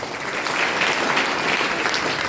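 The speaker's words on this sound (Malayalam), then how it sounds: "ഒരു ക്ലാപ്പ് കൊടുത്ത്" Audience applause fills a motivational session held at a church, a dense, steady patter of many hands clapping at fairly close range for the whole stretch without pause.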